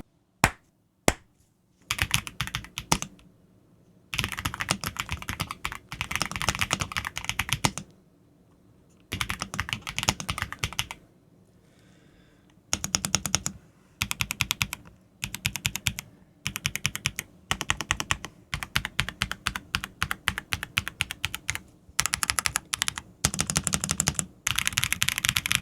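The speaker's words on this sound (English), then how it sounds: "So it's probably best we do a sound test now." Bursts of rapid typing on a Redragon Artemis Pro K719 full-size mechanical keyboard with five layers of sound dampening, clacking keystrokes coming in dense runs separated by short pauses, close and alone with no voices.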